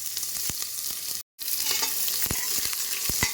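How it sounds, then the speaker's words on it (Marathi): Onions sizzle steadily in hot oil, broken by occasional scraping stirs and one brief moment of silence. "कांदा घातला आहे कांदा परतवून घ्यायचा आहे"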